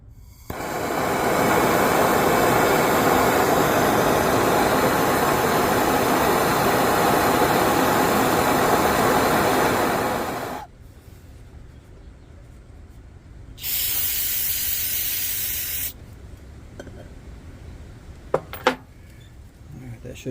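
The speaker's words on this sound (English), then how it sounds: "So I'm gonna take the torch" A Primus torch flame roars steadily for about ten seconds, heating carbon off a tip, then cuts off, followed by a brief hiss and a couple of small clicks.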